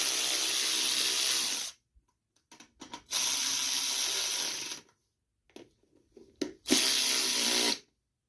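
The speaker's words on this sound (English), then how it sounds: "Get everything tightened down on that end." Cover being tightened down on the carburetor of a Snapper rear-tine garden tiller: three bursts of steady ratcheting, each lasting about one to two seconds, separated by quiet gaps with faint clicks, close and fairly loud with no talking.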